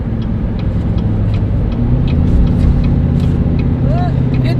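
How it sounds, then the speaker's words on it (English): Diesel exhaust brake on a 2020 Chevy 3500 dually towing down an exit ramp, heard as a steady, loud low engine drone and rumble with road noise inside the cab, while people talk over it. "we're going to see how the exhaust brake does on this exit ramp"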